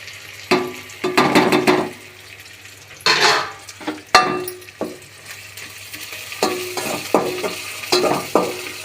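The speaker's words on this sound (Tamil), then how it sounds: "ஆவாரம்பூ பாருங்கள் எண்ணெயில் பொரிஞ்சிட்ருக்கு" Avaram (tanner's cassia) flowers frying in oil in a pan for a kurma, a close sizzle broken by repeated scraping and clattering stirs, with no talking.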